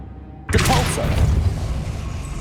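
A sharp magical blast erupts from a Depulso spell in Hogwarts Legacy, a sudden loud boom with a crashing burst that settles into a sustained rumbling tail.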